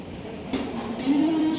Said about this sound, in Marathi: एक दोन मिनटामध्ये आपली ट्रेन सुटेल भावनगर टर्मिनस कोचिवली एक्सप्रेस